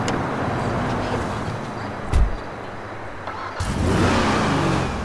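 A throaty Ruiner ZZ-8 muscle car engine in a video game rumbles and revs up near the end, a close, steady motor growl with a brief thump partway through.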